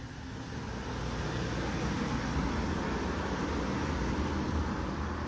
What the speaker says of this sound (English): so many cars tonight, you guys